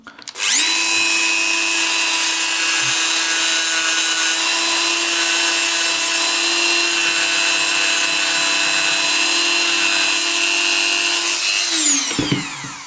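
Dremel rotary tool grinding down knife rivets on a custom Victorinox knife, a loud steady high whine that spins up, holds for about eleven seconds close by, then winds down.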